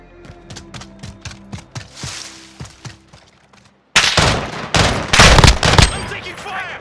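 Gunfire in Call of Duty Modern Warfare, a 2v2 alpha match: sparse single shots first, then after a short pause a loud, dense volley of rapid bursts close by.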